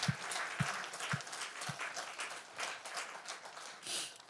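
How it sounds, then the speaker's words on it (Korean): A church congregation applauds, a soft distant patter of many hands with a few low thumps at the start, fairly faint and spread out across the room. "우리 하나님께 영광의 박수 올려드리겠습니다."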